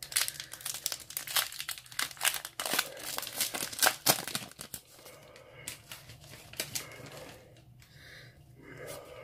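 A Pokémon booster pack is torn open and handled with dense, crisp foil crinkling and tearing close by for several seconds, then softer rustling as it settles.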